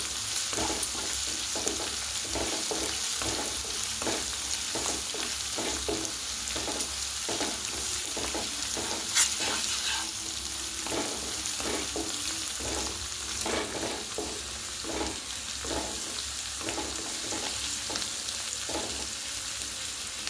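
Kappa biriyani mixture of tapioca and beef sizzling in a hot pan while a spoon scrapes and stirs it in a steady repeating rhythm, close and continuous with no talking.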